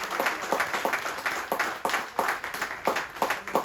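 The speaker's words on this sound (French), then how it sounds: "S'il vous plaît, applaudissons." A crowd at a political list presentation in Saint-Louis applauds steadily, dense clapping with a rhythmic, almost unified pulse, loud and sustained throughout with no talking over it.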